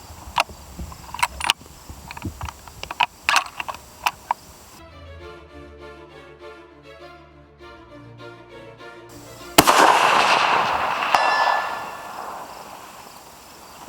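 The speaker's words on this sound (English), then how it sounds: "then I'm going to shoot a couple rounds" Rifle shots fired at long range crack out as a series of sharp, distinct reports, followed by a stretch of music and then one loud, close shot with a lingering echo.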